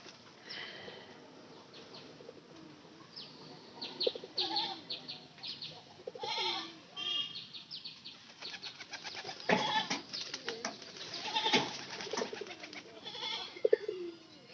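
Pigeons coo in a loft, with repeated soft, throaty coos close by, some overlapping, alongside occasional light knocks and rustles, with no talking.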